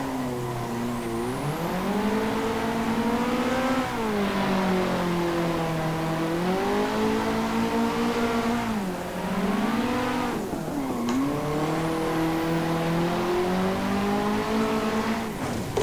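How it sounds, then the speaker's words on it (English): Simulated race car drifting on the Drift Playground track in Assetto Corsa, its engine note rising and falling in repeated revving swells over sustained tyre noise, steady and close throughout. "my first time driving at the epic Drift Playgrounds track"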